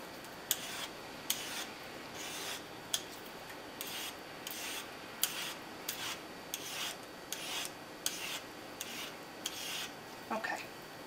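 A vegetable peeler shaves thin slices for raw lasagna noodles in a quiet kitchen, making about a dozen short, evenly spaced scraping strokes close by.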